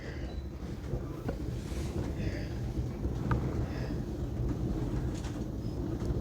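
Continuous low rumble of a train rolling along rails between Porsgrunn and Larvik, Norway, heard from inside the carriage, with a faint background hiss and occasional light clicks.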